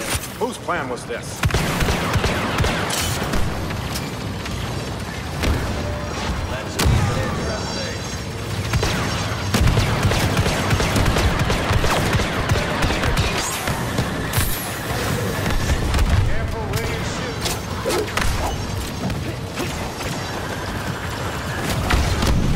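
Blaster fire and booming explosions from a Star Wars Battlefront II battle, dense repeated shots and impacts layered over game character dialogue throughout.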